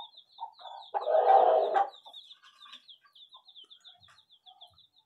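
A jealous, agitated rooster at a house in Teófilo Otoni lets out one loud, harsh clucking burst amid softer scattered clucks, while thin high peeping chirps repeat rapidly in the background.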